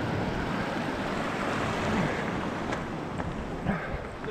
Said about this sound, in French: Petite rivière.